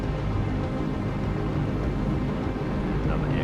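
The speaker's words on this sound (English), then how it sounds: "That is a helicopter, and that is close." A helicopter passes close overhead in the submarine game Cold Waters, a steady loud low rotor-and-engine rumble that holds evenly for a few seconds with no voices.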